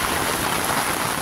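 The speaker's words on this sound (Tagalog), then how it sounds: "can you hear the rain from na bumabagsak sa aking umbrella?" Heavy rain drumming on an umbrella on a stormy monsoon morning in Bulabog, Boracay, a dense continuous patter close by with no break.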